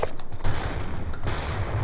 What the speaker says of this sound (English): I can hear him throwing flashbangs already.